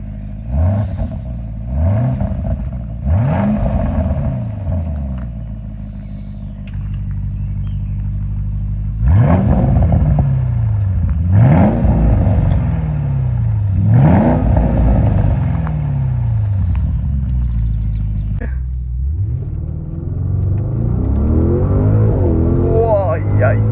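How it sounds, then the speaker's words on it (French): Audi RS Q8 exhaust revs repeatedly, loud and close, each rise in pitch followed by a falling note, ending in a rougher lower rumble. "on va écouter un petit peu l'échappement et je pense que vous n'allez pas être déçus"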